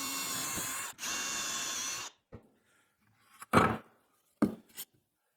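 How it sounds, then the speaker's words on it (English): A power drill bores two holes into a wooden drawer front in two sustained, loud whirring bursts up close, followed by a few short knocks and clatters. "I just set this up onto my middle mark, and I drill 2 holes."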